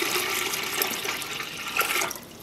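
Tap water gushes into a dye pot of yarn jars on a stove, a steady splashing rush that swells briefly near the end, then drops away as the flow is cut.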